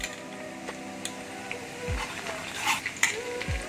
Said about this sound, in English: So saute your garlic lightly.